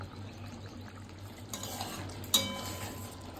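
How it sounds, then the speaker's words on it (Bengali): Mouri potol, a fennel and pointed gourd gravy, simmering in a pot over a very low flame, a faint bubbling hush with a couple of soft utensil clinks and one brief sharp tap. "চল ঝোলটা ফুটতে থাক। ফ্লেমটাকে একেবারেই লোয়েতে করে দিয়েছি"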